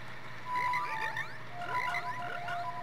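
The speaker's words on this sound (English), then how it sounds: "Bunch of pervert frogs." Video-game frogs in the Ocarina of Time croak in two bursts of rising, chirpy calls with bright tonal sweeps, moderately loud over a steady low background hum, with no talking.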